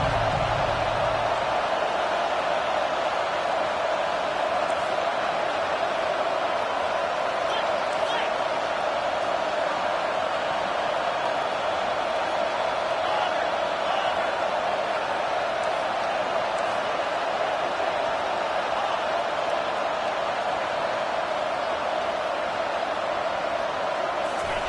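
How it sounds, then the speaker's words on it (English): Home crowd at an American football game roaring steadily and loudly throughout, a sustained wash of cheering with no pauses. "how nice is it to have the home crowd going absolutely bananas?"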